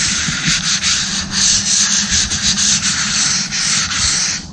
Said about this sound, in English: take a piece of 180, just nip sand it, scuff it up a little